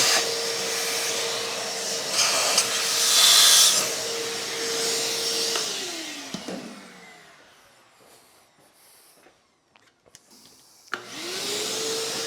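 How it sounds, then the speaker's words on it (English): A vacuum cleaner whines steadily, its motor pitch dropping as it powers down, then a quiet pause before it starts up again with a rising hum. "This time I'll vacuum it because the vacuum's right here."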